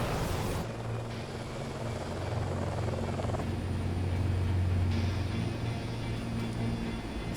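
A helicopter's engine and rotor roar steadily and loudly throughout, with a deep throbbing hum beneath a wash of broadband noise.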